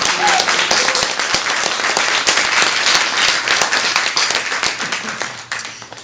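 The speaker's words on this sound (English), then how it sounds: "I would also just like a quick round of applause for Gallery5 for hosting us today." Audience applause at a Gallery5 event in Richmond, a steady roomful of clapping hands that stays dense and loud for the whole stretch, tapering slightly near the end.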